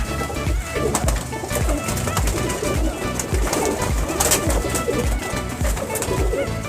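A teddy pigeon coos among other birds, low cooing mixed into a dense, continuous backdrop of loft noise.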